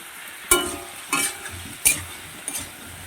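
Salt and chilli frying in an oily pan, a soft background sizzle punctuated by four sharp spatula scrapes and clinks against the metal, close and distinct.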